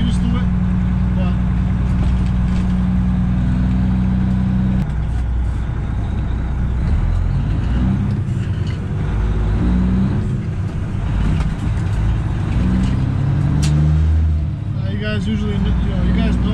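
A Kenworth W900 truck with a 13-speed transmission and twin-stick auxiliary shifter drones loudly through a gear change, the engine note dropping and then climbing, while someone talks over it throughout.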